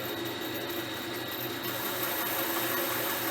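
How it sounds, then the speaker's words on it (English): Bandsaw fitted with a thick resaw blade ripping down wood in a pole barn shop, a steady loud whirring drone with no talking. "I got a resaw blade on this bandsaw, so it's a pretty thick blade"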